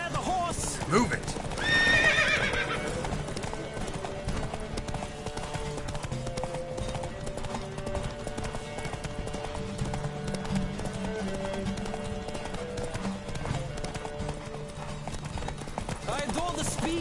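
Horses gallop in a race in The Witcher 3 video game, with a steady clip-clop of hooves and a loud whinny early on, while voices call out over the running hooves and background music.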